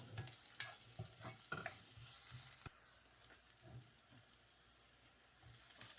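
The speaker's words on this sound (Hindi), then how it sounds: "अब मैं प्याज डाल दी जो 1 चॉप की थी। अब इसको कलर नहीं चेंज करना, सिर्फ सौते करना है" Chopped onion sautés gently in a pan, giving a soft, steady sizzle with intermittent scraping stirs, close and quiet, with no talking.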